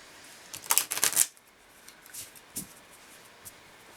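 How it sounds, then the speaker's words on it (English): Small angel cards being shuffled by hand in a quiet room, a quick burst of riffling snaps followed by a few soft, scattered card flicks. "these are angel cards, so we'll see what kind of message we get with these nice little angel cards"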